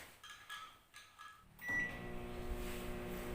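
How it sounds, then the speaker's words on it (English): A few quiet beeps sound, then a door clicks and a microwave oven starts up with a steady hum close by. "let us bring it back to the microwave for another 1 minute"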